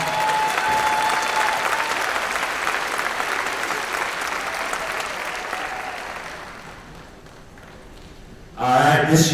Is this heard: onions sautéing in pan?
no